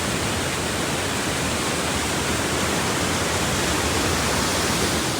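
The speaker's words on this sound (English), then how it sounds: "That's actually a dam, the waterfall there." Small waterfall spilling over a dam at Old Mill Park in Roswell, Georgia: a steady, dense roar of falling water, loud and close, unbroken from start to finish with no voices.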